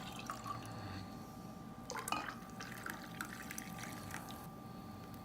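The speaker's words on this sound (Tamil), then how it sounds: "அதனால் கூட கொஞ்சம் தண்ணி சேர்த்துக்கலாம்." Water trickles and drips into amla juice, a faint close pour with a brief splashier burst near the middle, over a quiet steady background and no talk.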